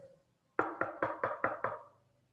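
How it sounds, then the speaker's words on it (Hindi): A door latch is rattled against a wooden door in a quick series of six sharp metallic knocks, evenly spaced and close, in an otherwise quiet room. "कुंडी जो है वो खटखटाई जाती है।"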